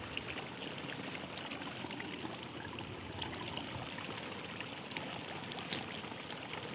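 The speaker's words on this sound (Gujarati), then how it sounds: "પાણી આ હાંધામાંથી નીકળે છે ને થોડું થોડું અહીંથી મોઢિયાથી" Water trickles thinly from the spout of a vessel in a village setting, a faint, steady splashing babble that runs continuously with no other sounds.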